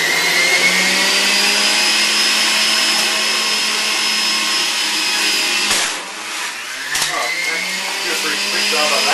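A Breville Juice Fountain Plus JE95XL juicer runs at full speed with a loud, steady high-pitched motor whine, briefly dipping and grinding as produce is pushed in.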